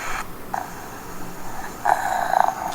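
Baby sound box playing a recorded sleeping snore: soft, low breathy snores repeating in slow rhythm, with two louder, higher snorts near the end and no talk.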